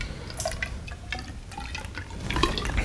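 Liquid pours steadily to fill an engine cylinder, a continuous trickling, gurgling splash with small drips, close and moderately loud.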